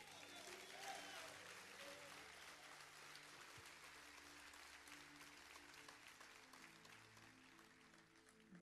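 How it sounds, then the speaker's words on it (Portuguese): Faint, distant applause from a church congregation during a Sunday evening service, a soft continuous patter of clapping under a low hum for several seconds. "aplauda e glorifique"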